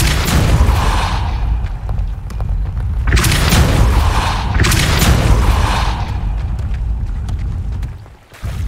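Forceful spell blasts in Hogwarts Legacy gameplay, a Depulso push spell booming out in heavy bursts, with several loud impacts around the first, third and fifth seconds over a continuous rumbling game background.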